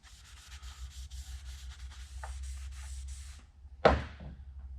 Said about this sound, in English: put a little brake clean on it. Clean this plate off.